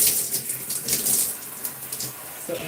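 Running water from a tap splashes steadily and close while hair is rinsed in a twist after conditioner, a continuous broadband hiss with no talking.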